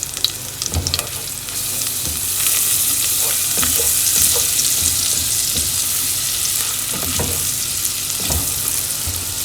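Small-chopped onions sizzle steadily in a pan for soup, a loud close frying hiss with occasional stirring scrapes and clicks throughout.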